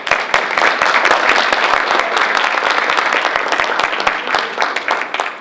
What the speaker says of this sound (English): Let's give Doug and Tony a round of applause.